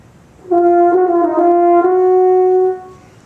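French horn playing the performance-tempo version of a turn passage from an all-state audition etude: a held note broken by a quick ornamental turn, then sustained and released, about two seconds long, close and solo.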